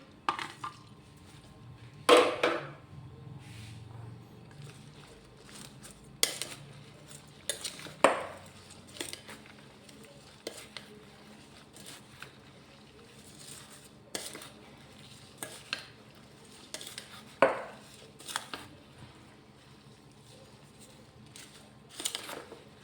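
A spoon stirs green chilies through dry spices in a pot for pickle, scraping and clinking against the metal in a steady series of close, distinct knocks over soft background noise, with no talking.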